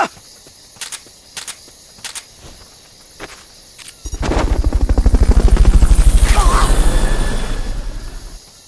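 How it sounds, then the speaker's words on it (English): In the video game Metal Gear Solid Peace Walker, a Fulton recovery helicopter's rotor thrum swells in from silence, loud and steady, after a few sharp clicks and taps; no one speaks. "Fulton recovery helicopter is complete."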